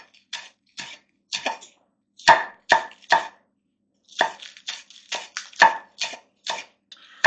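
Knife chopping a green onion on a cutting board for salmon patties, a series of short, sharp, close taps in irregular bursts with brief pauses between them.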